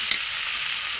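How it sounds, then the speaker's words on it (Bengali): Spice paste for a beef liver and split chickpea dal dish fries in released oil, a brief bright hissing sizzle heard up close while it is stirred. "দিয়ে মশলাটা ভালোভাবে ভাজা ভাজা করে নিব"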